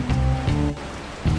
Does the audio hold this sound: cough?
no